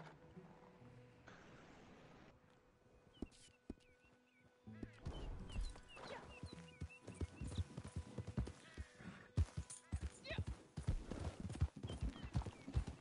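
Horse hooves clip-clopping in Red Dead Redemption II Online, with a steady rhythm of close, distinct hoofbeats that grows louder and denser through the clip, alongside faint game ambience.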